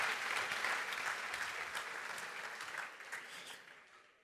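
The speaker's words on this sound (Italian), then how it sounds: "Un applauso a Giulia." An audience at a festival talk claps warmly at moderate distance, the dense patter starting full and slowly tapering away toward the end.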